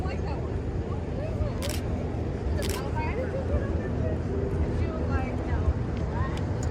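A Nikon mirrorless camera with an ultra-wide zoom lens fires its shutter twice, giving two sharp, brief clicks outdoors near a palazzo. Wind and faint background voices run underneath.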